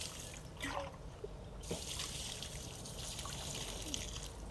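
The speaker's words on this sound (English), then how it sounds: "Just tip out the water only." Water tipped out of a spot-free rinse tank holding a little DI resin, a steady close trickle and pour running throughout with a brief swell partway through.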